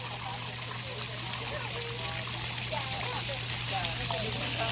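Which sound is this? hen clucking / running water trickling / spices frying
running water trickling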